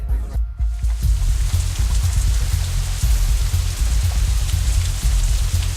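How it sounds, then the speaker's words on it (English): Steady rain pours down in the Katawa Shoujo visual novel, a dense, continuous hiss that stays loud and even throughout after a brief dip near the start, with a low rumble beneath and no voices. "Despite the passing of time, it's still raining outside when we exit the Shanghai"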